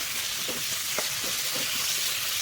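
Tomatoes fry in a pan, a steady soft hiss of sizzling with a few light taps of stirring, close and moderately quiet, with no talking.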